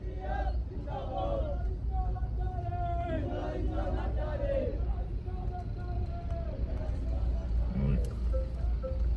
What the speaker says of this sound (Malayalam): കൊറേ ആളുണ്ട് കേട്ടോ. നല്ല ജനക്കൂട്ടുണ്ട്.